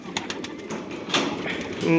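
Soft pigeon cooing mixed into a busy background on a pigeon farm in Saudi Arabia, with people talking over it throughout.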